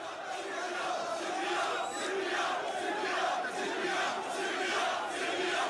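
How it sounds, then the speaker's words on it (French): A large protest crowd in Algeria during the fall of Bouteflika rumbles out a slogan in unison: a dense, loud, rhythmically swelling chant from many voices, heard alone. "la foule se met à gronder un slogan"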